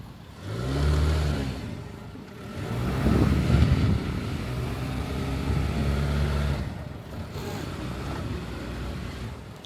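A Jeep Renegade Trailhawk's engine revs and strains in surges while driving off-road over diagonal ruts, rising and easing several times at moderate distance with no talking.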